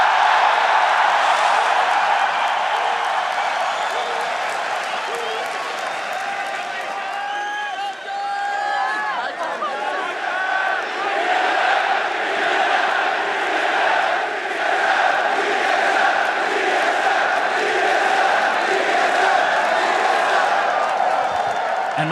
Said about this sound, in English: Dude, this crowd is nuts.